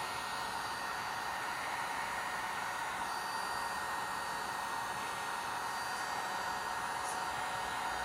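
A heat tool on its low speed melts embossing powder on faux vellum, giving a steady, close, even whoosh of blowing air that holds without a break from start to finish.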